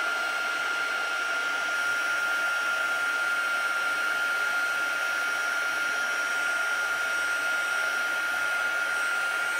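Heat embossing tool held over a Halloween card, melting embossing powder: a steady, even blowing hiss with a whine, constant and fairly close for the whole stretch with no pauses.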